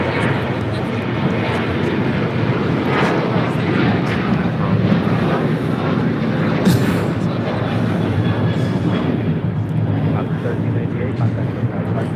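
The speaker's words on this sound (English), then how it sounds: "This is Alaska Airlines 1398 taking off to Mazatlan on a 737-800" An Alaska Airlines Boeing 737-800 takes off at LAX with a sustained, heavy engine roar and deep rumble, while voices chat quietly underneath.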